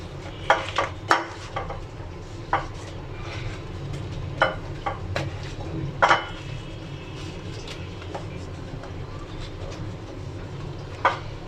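Salted eggplant slices for beguni are mixed by hand in a bowl, giving scattered clinks and taps of the bowl and soft rubbing over a low background hum, close and moderately loud.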